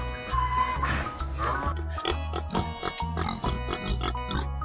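Wild boar grunting in repeated low, rough pulses over a steady musical backing, fairly loud and continuous throughout.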